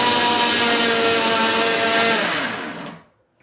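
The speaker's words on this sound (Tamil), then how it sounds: "இப்போ எல்லாத்தையும் ஒன்றா சேர்த்து அரைச்சிடணும்." A kitchen mixer grinder whirring steadily as it grinds protein powder ingredients, a loud, close motor whine held for nearly three seconds before spinning down and stopping.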